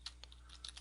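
Quick light keystrokes tap on a computer keyboard, about six faint clicks in under a second against a quiet hum.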